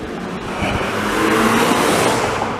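A Volkswagen Jetta passes by on a suburban street in Longueuil, Quebec, its engine noise and tire roar swelling steadily, loud and close, with no other sounds.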